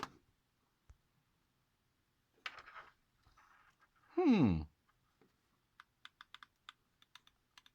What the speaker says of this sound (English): Nice click.